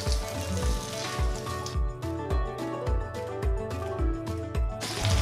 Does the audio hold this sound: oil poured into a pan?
yes